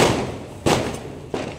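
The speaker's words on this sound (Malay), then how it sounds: "Tengok bunga api dah belum?" Firecrackers and fireworks go off on the night before Hari Raya, three muffled, fairly distant booms spaced about two-thirds of a second apart, each leaving a rumbling decay.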